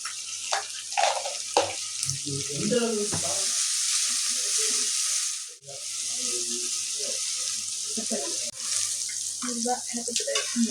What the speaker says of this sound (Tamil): பாருங்க ஃப்ரெண்ட்ஸ், வெங்காயம் நல்லா வதங்கிடுச்சு. இந்த ஸ்டேஜில் இஞ்சி பூண்டு பேஸ்ட் சேர்த்துக்கலாம்.